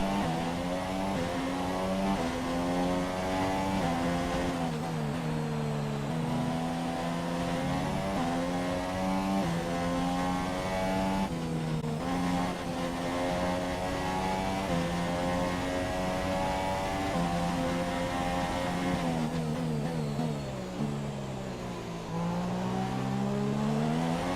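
F1 2017 race car from the game's career mode at the Spanish Grand Prix, engine revving loudly and steadily for the whole stretch, pitch sweeping up and down through gear changes and corners, with no talk over it.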